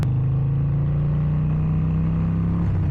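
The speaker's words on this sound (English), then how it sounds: "This is my first Harley-Davidson ride ever. I just love the sound." Harley-Davidson XL 883 Iron Sportster engine running with a steady, loud low throb, holding an even idle-like pitch for about three seconds with no talking.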